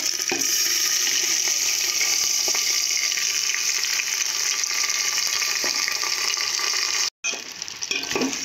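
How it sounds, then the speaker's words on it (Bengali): Marinated rice for basanti pulao frying in a pot with cardamom, giving a steady, close sizzle with occasional stirring scrapes, briefly cut off near the end. "এইভাবে ভালো করে ভেজে নেব হাঁড়িতে।"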